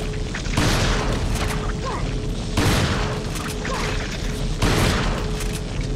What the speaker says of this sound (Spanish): 6 disparos de escopeta